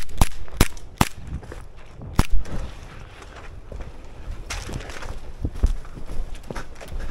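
An airsoft pistol fires several sharp snapping shots outdoors among bushes and trees, spaced irregularly over light rustling and movement.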